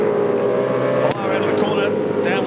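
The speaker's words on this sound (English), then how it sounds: "Lowndes, flames belching from the exhaust as he comes right up behind Murphy in the Kmart machine" V8 Supercars at Winton Raceway in the 2000 Shell Championship Series roar close by, one engine sustained and harsh with a brief gear-change dip midway, under race commentary.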